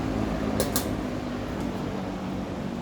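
A Berns Air King 20-inch box fan, model PR-20S, runs on its low setting, producing a steady close whooshing hum with a low motor drone and a couple of brief clicks or rattles early on.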